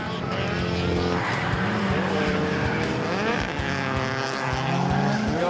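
A drift car slides around the Taupo circuit with its tires squealing continuously, and the loud engine roars alongside without a break.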